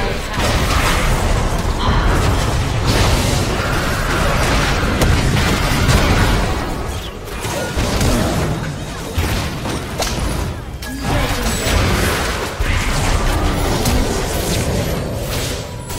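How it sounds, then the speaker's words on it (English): A video game turret explodes amid loud, unbroken battle noise of booms, bursts and crashes, with voices faintly mixed into the dense clamor throughout. "Your turret has been destroyed."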